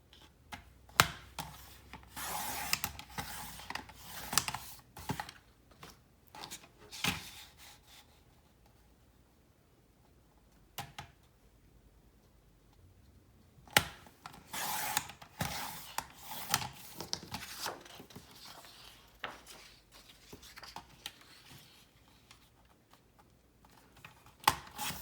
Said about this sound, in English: I've decided that I want this paper to be my dominant one, so I'm going to cut it first